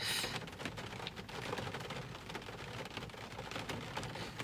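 Steady rain pouring down outdoors, a dense even hiss with scattered louder drop impacts throughout, alone without talk.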